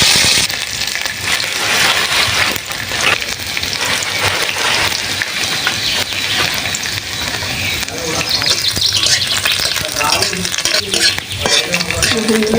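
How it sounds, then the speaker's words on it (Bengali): Garlic frying in mustard oil in a wok gives a loud, steady sizzle with stirring scrapes throughout, and a little quiet talk comes through now and then. "রসুন কটা দিয়ে দেবো, আগে ভাজা ভাজা করে নেবো রসুন কটা।"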